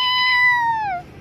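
A single drawn-out cat meow, clear and close, with a rising then slowly falling tone that trails off at the end.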